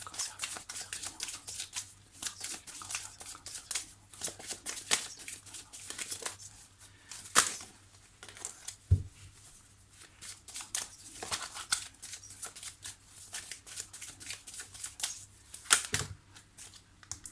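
A deck of tarot cards is shuffled during a reading, with rapid papery flicks and slides close by, broken by occasional louder taps and pauses.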